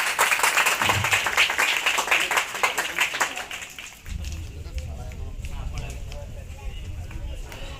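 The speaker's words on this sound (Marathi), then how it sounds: "जोरदार टाळ्या" Dense crowd applause for prize-winning students at an Independence Day celebration in a Zilla Parishad school in Naigaon, loud for about four seconds, then giving way to a steady low rumble.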